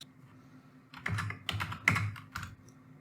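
Someone types a number on a computer keyboard: a short burst of close key clicks in quick uneven taps, fairly quiet, with no talking.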